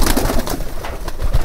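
Domestic desi pigeons at a pigeon farm coo loudly and close by during feeding, several overlapping throaty murmurs with wing rustles and knocks.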